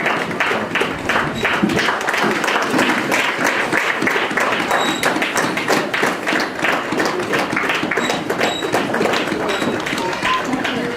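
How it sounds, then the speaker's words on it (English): Congregation clapping hands for a church praise team, a dense, sustained patter of many hands at steady loudness throughout, with a few voices mixed in. "Let us clap hands for the praise team."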